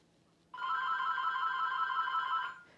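A telephone rings in a kitchen during taco dip preparation, one sustained electronic ring lasting about two seconds, loud and clear over a quiet room, with no talking.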